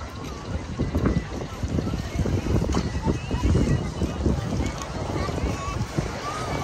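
Outdoor wind rushes across the microphone at a riverside spot in the Philippines, a rough, uneven buffeting roar with rumbling gusts that swell and ease throughout.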